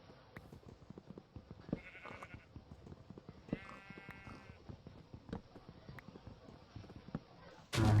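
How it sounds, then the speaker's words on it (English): Sheep in Minecraft bleating twice, short buzzy cries a couple of seconds apart, over soft rhythmic footstep clicks, with a sudden loud burst at the very end. "And then there's the sheep right here,"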